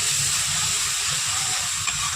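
Water hits a hot pan with turmeric and hisses in a steady, close steam sizzle that lasts throughout.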